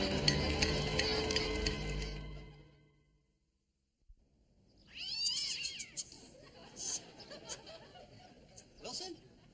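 A cat yowls and caterwauls in a series of rising, wavering cries after a pause, following loud talk in a household scene.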